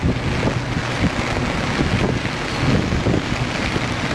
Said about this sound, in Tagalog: Medyo malakas din po yung hangin.